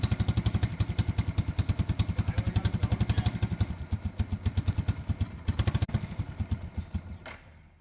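An old motorcycle engine that had been sitting since 1996 runs on starting fluid sprayed into the carburetor, with a rapid, loud, thumping rhythmic beat close by that holds steady and then fades as the engine dies.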